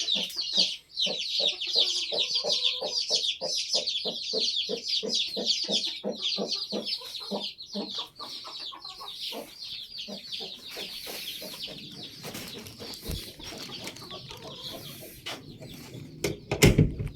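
A mother hen clucks with her chicks nearby, rapid repeated clucks forming a close, steady rhythm over a bed of high chick peeping, fading to softer clucking and rustling toward the end.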